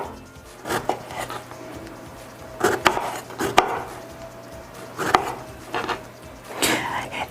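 A knife slicing berries in half on a cutting board for a fruit salad gives scattered soft chops and taps, some sharper knocks on the board, with a faint hum beneath.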